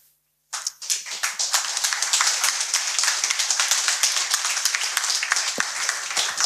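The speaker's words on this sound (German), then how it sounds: "der Applaus war jetzt nicht für das Ende der Geschichte" Sustained audience applause at a live storytelling performance, dense and steady after a brief quiet start, with a few louder claps standing out and fairly close, no talk over it.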